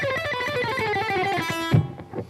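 Fast descending lick from a solo on distorted electric guitar, a rapid run of picked notes with a triplet feel falling in pitch, ending in a few sustained chords and low thumps.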